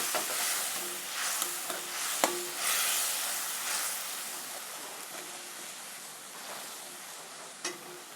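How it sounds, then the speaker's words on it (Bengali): Spice paste for a rohu fish curry fries in hot oil with a steady broadband sizzle, broken by a few sharp scraping clicks from stirring throughout. "এখন মশলাটা দিয়ে দিই যেটা করে রেখেছি মশলাটা ভেজে নিই"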